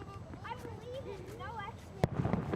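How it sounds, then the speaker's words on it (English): At a December holiday event outside City Hall in Lloydminster, one loud firework bang cracks out, followed by crackling bursts, after a stretch of talking voices and ambient noise. "free hot chocolate was handed out via drive-through at City Hall just before fireworks"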